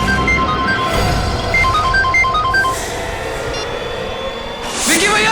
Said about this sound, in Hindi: ये रिंगटोन तो बढ़ती ही जा रही है